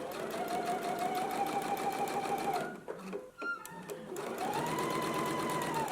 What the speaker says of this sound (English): we're going to stitch this in a 1/2 inch seam allowance